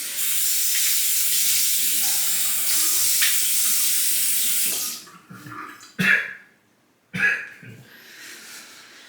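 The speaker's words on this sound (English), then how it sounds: "let me wet the face and get lathered up" A bathroom tap runs steadily with a hissing stream for about five seconds as a face is wetted before shaving, then stops, followed by a few close wet splashes and faint handling noises.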